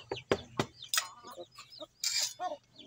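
Month-old HeNaSil chickens in a screen-walled cage give a handful of short, close clucks and sharp chirping calls in quick, uneven bursts.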